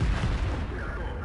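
Booming roar from an SU-152 gun shot in World of Tanks, a heavy rumbling blast already underway that stays loud and slowly thins out, with no talk over it.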